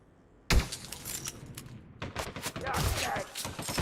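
Bursts of gunfire and rattling shots in the video game Elite Dangerous: Odyssey, starting with a sudden loud blast and continuing as a dense, uneven volley of close impacts, with no speech.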